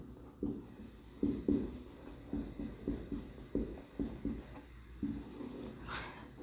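A marker or chalk on a classroom board gives soft, irregular taps and short strokes, faint and close, repeating in small bursts with brief pauses between them.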